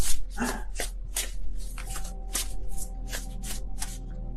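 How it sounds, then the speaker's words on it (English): Tarot cards being shuffled by hand, a run of quick papery riffles and flicks repeating in a steady rhythm, close and clear over a low constant hum. "I don't know what's going on with my shuffling right now."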